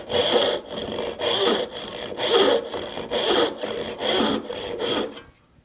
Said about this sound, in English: So I'm going to make my rip cut first. Vertical, and I'm going to go right along that line.